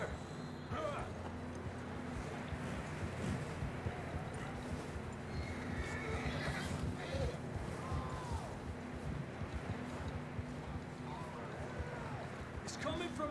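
Horse clip-clop and movement from a horse in Red Dead Redemption 2, steady hooves under wind and outdoor ambience, with someone talking over much of it; no distinct neigh stands out.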